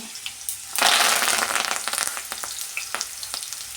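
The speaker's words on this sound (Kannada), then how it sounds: "ಒಂದು ಸ್ವಲ್ಪ ಆಯಿಲಲ್ಲಿ ಫ್ರೈ ಮಾಡ್ಕೊಳ್ಳೋಣ ಈಗ ಸ್ವಲ್ಪ ಕರಿಬೇವಿನ ಸೊಪ್ಪು" Curry leaves dropped into hot oil for a coconut sambar, bursting into a loud, close sizzle that settles into crackling and popping spatters over a few seconds.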